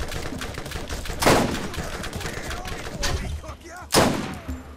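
Gunfire from the video game Borderlands crackles through a busy combat scene, with three louder weapon bursts standing out over continuous background noise of the fight.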